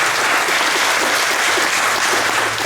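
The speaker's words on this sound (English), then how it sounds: "give your mom and dad and your family members a round of applause if you would" Dense, loud applause fills a school moving-up ceremony as the audience claps for parents and family members, continuous and even from start to finish with no pause.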